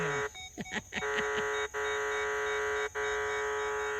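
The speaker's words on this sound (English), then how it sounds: "that's a lot of beeping, but I got a signal right here." Several short electronic beeps cluster early, then two more isolated beeps follow over a steady background hum; close and moderately loud.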